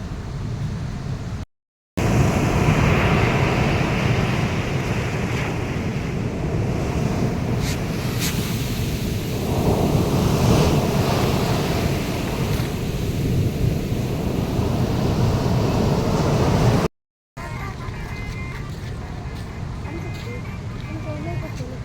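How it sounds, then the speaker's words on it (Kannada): Ocean surf at Mattu beach in the morning, a broad continuous wash of waves with wind buffeting the microphone, loud and close, broken by two brief dropouts and faint voices at times. "ಬೀಚಿಗೆ ಬಂದಿದ್ದೇವೆ, ಮಟ್ಟು ಬೀಚ್."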